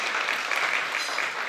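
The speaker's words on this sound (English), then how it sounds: "We'll give him a round of applause" A school festival crowd at the Sakura Sounds prelude claps in a round of applause, dense even clapping at constant loudness throughout.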